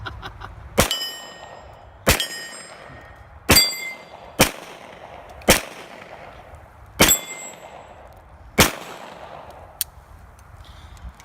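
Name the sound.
RIA Pro Ultramatch .40 pistol shots hitting steel targets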